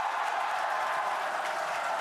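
A crowd in Hawthorne cheers and applauds during a SpaceX Starship launch, a steady dense wash of clapping and cheering with no breaks.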